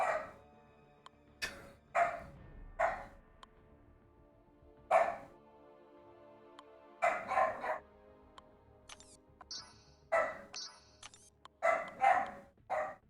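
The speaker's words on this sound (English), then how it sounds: "And that's my dog in the background," Dog barking in short bursts behind a game live stream, several separate barks spread across the stretch at moderate loudness, with quieter room noise between them.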